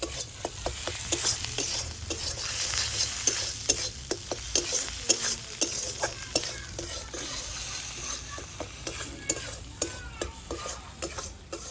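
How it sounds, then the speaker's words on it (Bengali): Spice paste for a koi fish and giant taro dish is stir-fried in a pan over a flame that keeps going out, with rapid, repeated close scraping strokes over continuous sizzling and no talk. "ভালো করে কিন্তু মশলাটা কষাতে হবে"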